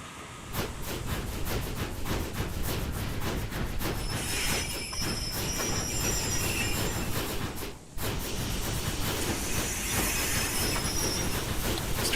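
A train in the video game ARK Survival Ascended rolls into a platform with a loud continuous rumble, rhythmic wheel clatter and high metallic squealing, close and unbroken apart from a brief dip.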